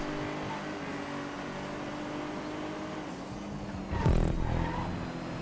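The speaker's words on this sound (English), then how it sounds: "I can hear that Omnis." Omnis race car in GTA 5, a steady engine drone with a louder surge of engine and tire noise near the end of the clip.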